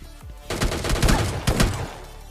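Rapid MK14 rifle fire in the battle-royale game PUBG Lite, a short loud burst of several cracking shots in quick succession with booming reports, no talk.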